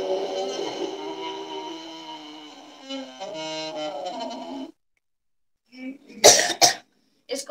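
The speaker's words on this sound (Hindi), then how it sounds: "गले को सिकोड़ लेना है, सर नीचे करके और आवाज निकालनी है" A long, strained, voiced yogic exhale pushed through a tightened throat with the head lowered, then silence, followed by a couple of sharp coughs close by.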